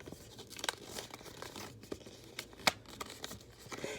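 Paint chip paper folded by hand: crisp crinkles and sharp creasing snaps, with a few louder crackles scattered among softer rustling, close up and fairly quiet, no talking.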